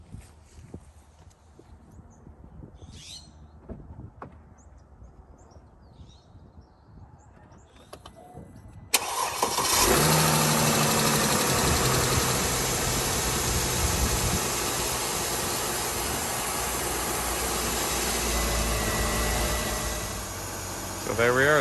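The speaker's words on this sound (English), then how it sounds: "Now we can fire up the engine and verify our repair." A Mercedes M272 engine cranks over and catches at about nine seconds, then settles into a steady, loud idle close by after a quiet stretch of faint handling noises, following a drive belt and idler pulley replacement.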